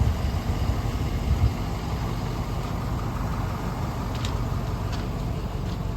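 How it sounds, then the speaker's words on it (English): A 2004 Ford F-150 XL Heritage pickup, a four-wheel-drive former fire department truck with a Triton V8 gas engine, idles with a steady low rumble and even drone, no revs, no talk. "That's the Triton V8 that it has."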